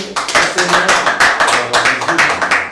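An audience claps in rhythm at a Congolese gathering, brisk, evenly spaced hand claps that are loud and close, steady for the whole moment without pause.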